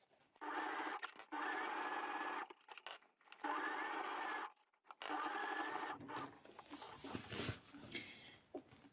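Sewing machine stitching a Cashmerette Moto jacket, running in several steady bursts with short pauses between them, loud and close, then giving way to fainter handling noises near the end.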